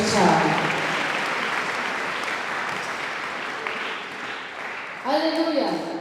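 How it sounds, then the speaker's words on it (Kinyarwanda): A church congregation claps loudly in a dense, sustained burst that gradually fades, and a voice speaks over the start and the end of the applause. "Imana ikomerwe amashyi cyane."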